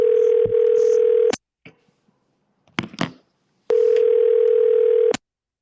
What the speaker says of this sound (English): I just gotta make a phone call real quick, guys.